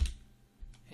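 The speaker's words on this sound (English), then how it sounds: "I'm gonna hit tab, type in RBD packed object" A few quick, close clicks of keys being pressed on a computer keyboard, faint and brief.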